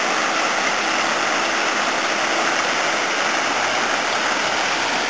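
A river pours over waterfalls in a constant loud roar of rushing water, close and unbroken from start to end, with no voices over it.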